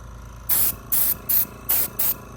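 Five short bursts of spray paint hit the tips of screws on a gun upper, each a loud, close hiss of roughly a fifth of a second with brief pauses between.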